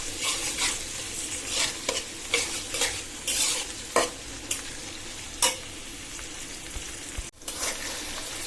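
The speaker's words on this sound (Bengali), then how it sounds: "আমার পেঁয়াজ রসুন কাঁচামরিচ তেজপাতা লবঙ্গ দারচিনি গোলমরিচ এলাচ এগুলো ভাজা শেষ" Onion, garlic, green chillies, bay leaves, cloves, cinnamon, black pepper and cardamom fry in oil with a close, steady sizzle, broken by repeated scraping stirs of a spoon against the pan.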